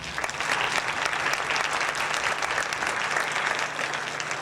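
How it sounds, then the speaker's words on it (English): An audience at a high school jazz concert gives a soloist a round of applause, steady dense clapping that stays loud for the whole stretch and eases slightly near the end. "Give him another round of applause"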